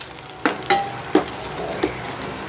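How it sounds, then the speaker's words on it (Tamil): Gentle oil sizzle of coconut frying in a pan, with a few light clicks and scrapes of stirring, close and fairly quiet. "லேசாக எண்ணெயில் ஃப்ரை பண்ணாவே போதும்"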